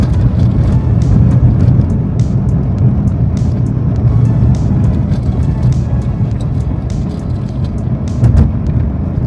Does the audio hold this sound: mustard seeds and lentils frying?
no